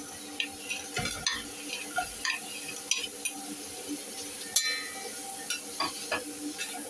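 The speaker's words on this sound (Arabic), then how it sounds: "الحاجات دي كده تاخد تشويحة مع قطعة الدهنة دي" Onion, bay leaves, black peppercorns and cardamom sautéing with a piece of fat and a little oil, a low sizzle broken by repeated spoon scrapes and clinks against the pot in an uneven rhythm.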